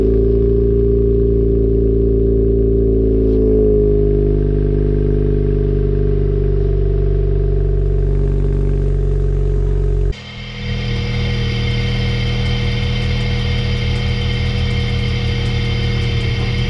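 A Mazda RX8 S1 rotary engine runs at a loud, steady idle on its first start, a deep droning hum that settles in pitch, then shifts abruptly to a rougher, buzzier tone partway through; no talking.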